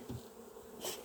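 Honeybees buzzing while being moved from a nucleus hive into a full hive; a faint, steady hum for about a second, ending in a brief louder burst.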